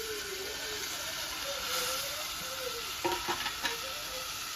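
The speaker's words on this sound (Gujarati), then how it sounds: "અત્યારે સાસની કઢી વઘારે છે" A steady sizzling hiss of spices hitting hot oil in a pan while tempering kadhi, with a few light clinks near the end.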